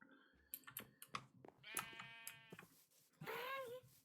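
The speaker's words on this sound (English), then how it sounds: "I even got some sheep over here." Sheep bleat in a Minecraft-style video game, several wavering bleats close up, mixed with clicky keyboard typing and scattered game sounds.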